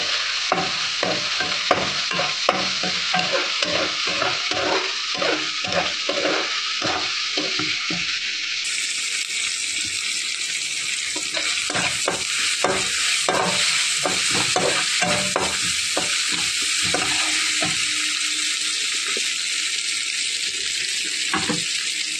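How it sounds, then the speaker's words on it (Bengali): Ginger and garlic paste gets stirred into browning onions in a sizzling pan for chicken biryani, with steady frying hiss and continuous rhythmic scraping strokes, close and loud. "এবার আদা বাটা 1 চামচ, রসুন বাটা 1 চামচ দিয়ে নাড়িয়ে চাড়িয়ে নেব।"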